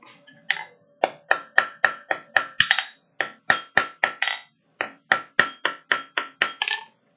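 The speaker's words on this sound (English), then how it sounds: "Forging some magnesium." A hammer strikes magnesium being forged. About two dozen sharp, ringing metallic blows land in quick rhythmic runs, each with a short decaying ring, and two brief pauses split the runs.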